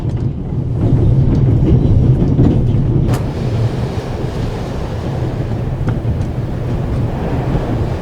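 Riding a Swiss train in the game The Raven Remastered: a steady low rumble of the moving carriage with a constant wind-like rush, loud and unbroken, with one faint sharp click partway through.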